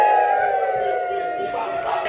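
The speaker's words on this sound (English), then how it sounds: "We then ended our session with a group cheer and a push-up challenge" A youth group at a session gives a loud group cheer together, a sustained wash of mixed voices shouting at once at close range.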